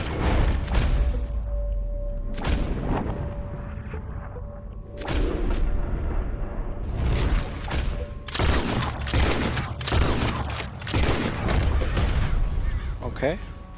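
Gunfire in the Red Dead Redemption 2 video game: a series of loud, sharp gunshot bursts across the clip, some booming and close, mixed with game sound effects and voices talking over the action.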